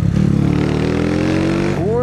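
A powerful small motorcycle engine revs loud and close, its pitch climbing steadily while it pulls through a gear before dropping at a shift and rising again.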